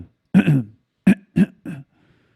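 Someone imitates throat clearing, mimicking a reflux sufferer: one longer guttural rasp followed by three short clipped throat sounds, near and dry against silence.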